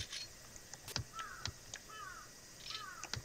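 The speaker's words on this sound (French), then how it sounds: "On va se battre contre un corbeau." Crows cawing in the horror video game Paranormal Syndrome 2: a few short, scattered calls at moderate loudness over a faint ambient background, with no talking.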